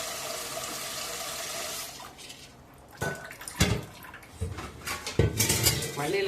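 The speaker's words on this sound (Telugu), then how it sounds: "మళ్ళీ గిన్నె కడిగేసి మళ్ళీ ఫ్రెష్గా వాటర్ పట్టుకోవాలి" A cooking pot washed with water in a kitchen: a hiss of flowing water gives way to irregular metallic clanks, scrapes and sloshing bursts, close and fairly loud.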